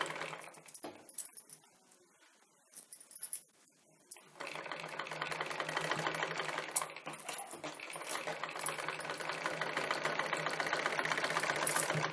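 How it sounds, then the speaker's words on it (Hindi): A sewing machine stitching a blouse, starting after a few quiet seconds with faint handling clicks, then running steadily with a close, even mechanical whir and rapid ticking. "इस तरह से रखकर अब हम इसे सिलाई करेंगे।"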